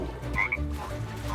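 A frog in the Lego Party video game gives a short croak over game background sound, with no talk.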